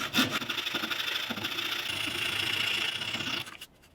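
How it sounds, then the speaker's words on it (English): A Japanese flush trim saw cuts through wood for a patio side table, with steady rasping back-and-forth strokes close up that stop abruptly near the end. "while the Japanese flush trim saw cuts a lot faster"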